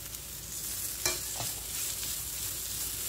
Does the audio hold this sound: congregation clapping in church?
no